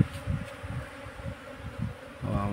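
Honeybees buzzing near a farm hive entrance as the colony moves inside, a steady low drone with pulsing swells, fairly close and continuous.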